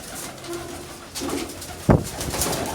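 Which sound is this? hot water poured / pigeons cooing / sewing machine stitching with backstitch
pigeons cooing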